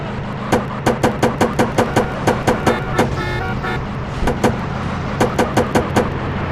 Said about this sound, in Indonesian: Yang ketiga, menambahkan sound effect backfire.